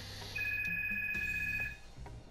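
A telephone rings with a sustained electronic two-tone trill, bright and close, lasting about a second over a low background hum before cutting off.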